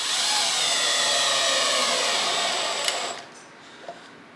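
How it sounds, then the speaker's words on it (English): A cordless drill whirs steadily at close range for about three seconds, then stops, followed by a couple of small clicks. "it's just quicker with the cordless drill"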